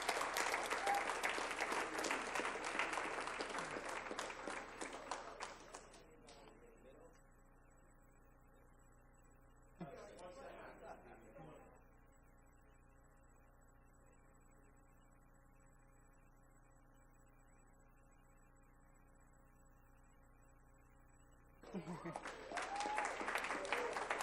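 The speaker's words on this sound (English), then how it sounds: "Let's give him a round of applause." Audience at a school board meeting applauds in a hall, a fairly loud burst of clapping that fades out, a brief second burst, a quiet pause with faint hum, then applause resumes strongly.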